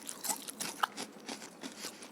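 Someone bites and chews a crunchy cooked banana blossom dish, giving a run of close, crisp crunches at an irregular rhythm, fairly quiet with no talk.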